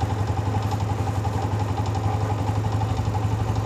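A motorcycle engine runs steadily at 3000 RPM during a heat-up test, a close, continuous mid-low drone with an even pulsing rhythm throughout and no talk.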